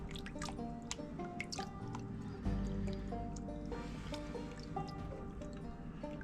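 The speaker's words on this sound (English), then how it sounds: "go ahead and take some water. Rinse this guy out really good." Water swirling and rinsing through a gold pan during gold panning, with steady trickling, dripping and sloshing over a continuous background, close and moderately loud, no talking.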